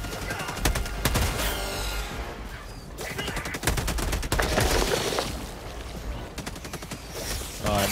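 Rapid automatic machine-gun fire in the video game Helldivers 2: dense, loud, sustained bursts with brief gaps, close up, mixed with other battle noise.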